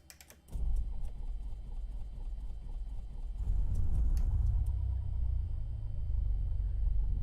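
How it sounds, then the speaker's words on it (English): A light aircraft engine in Microsoft Flight Simulator starts up after a few clicks and settles into a steady, low droning rumble that grows louder partway through. "Engine's running."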